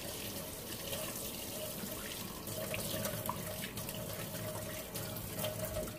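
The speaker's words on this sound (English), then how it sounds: "Throw a little bit of cold water on it here." Cold water runs steadily from a bathroom tap into a sink during a shave, a continuous soft splashing hiss with no talking.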